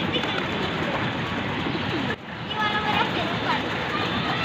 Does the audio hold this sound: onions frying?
no